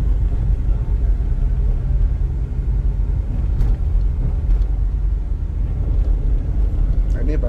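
A Nissan Grand Livina's engine hums and pulls steadily under acceleration from inside the cabin, a constant low rumble with tyre noise beneath, while people converse over it.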